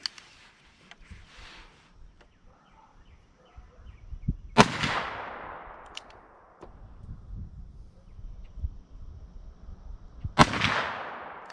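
Two loud, sharp shots from a Taurus Raging Hunter .44 Magnum revolver with an 8.37-inch barrel, firing Hornady ammunition outdoors, spaced several seconds apart, each ringing off into a long decaying echo, with quiet handling noises in between.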